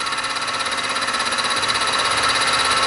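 A mini mill running a fly cutter through metal at about 1,000 RPM, taking a light cut of roughly five thousandths: a steady, loud, continuous machining whine and rumble with no break and no talking.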